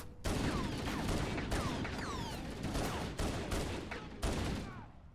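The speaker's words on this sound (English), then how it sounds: "I may have shot a Marine in the face." Rapid gunfire in the Halo video game, with repeated loud bursts of shots in a dense volley and sharp whooshing streaks between them, continuing through the whole stretch.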